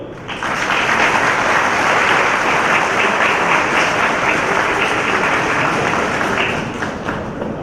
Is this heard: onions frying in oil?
no